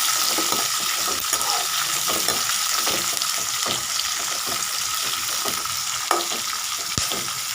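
Green chillies fry in hot oil in a pan, with a loud, continuous close sizzle and crackle alongside occasional stirring scrapes.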